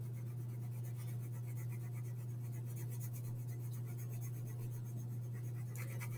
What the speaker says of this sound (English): I'm barely touching the paper with my pencil.